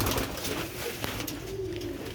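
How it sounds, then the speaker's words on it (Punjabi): Sialkoti roof pigeons coo close by, a soft, repeated guttural coo rising and falling over light background noise, with no one speaking. "ਇਹ ਜੇ ਸਿਆਲਕੋਟੀ ਛੱਤ ਵਾਲੇ ਕਬੂਤਰ"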